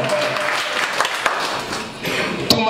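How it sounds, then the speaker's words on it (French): Audience applause at a free training event, dense clapping close by with a few sharper claps near the end. "Des applaudissements pour Toumi Production."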